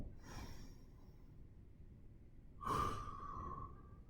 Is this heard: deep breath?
yes